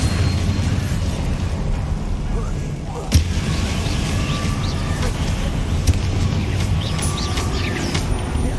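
A Bombarda spell explodes in Hogwarts Legacy amid a continuous rumbling battle din, with one sharp booming impact standing out early and a few smaller crackling bursts scattered afterward.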